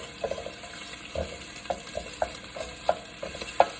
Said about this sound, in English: first, I like to saute my onions